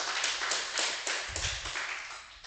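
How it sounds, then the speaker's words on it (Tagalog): A church congregation applauding during a Sunday worship service: steady, dense clapping from many people, loud and close, with a few dull thumps underneath. "Bigyan natin ng malakas na palakpak para sa ating Panginoon"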